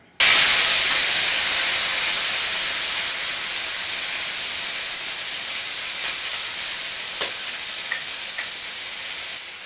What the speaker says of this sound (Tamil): இப்போ நம்ம வேக வச்சு வடித்து வச்சுருக்கிறதுல ஒரு பாதி அளவு எடுத்து நம்ம அந்த வடைச்சட்டியில் வச்சுருக்க எண்ணெயில் லைட்டாக ஃப்ரை பண்ணிக்கலாம்.